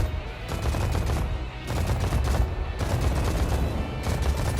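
Continuous rapid gunfire in a space combat game, a steady dense rattle of machine-gun bursts running throughout at moderate level with no talk.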